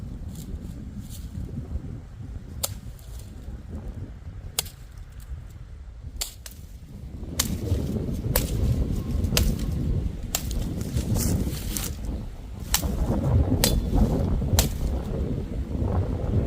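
A $5 budget machete chops through wood outdoors with repeated sharp, cracking strikes at an uneven pace, set against steady wind noise that grows louder partway through.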